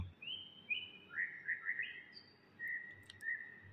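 A white-rumped shama sings nearby in short whistled phrases and chirps, clear and bright over a quiet background, with brief gaps between bursts.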